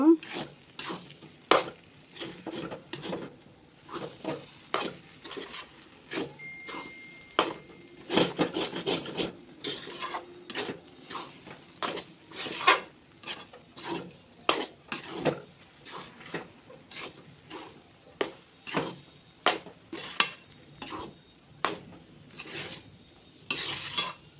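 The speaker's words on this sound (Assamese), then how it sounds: "এনেকৈ লাৰি থাকিব লাগিব।" Bora rice jolpan stirred in a covered pot, a steady run of dry scraping, rasping strokes with a rhythmic, repetitive pulse, close and moderately loud with no talk over it.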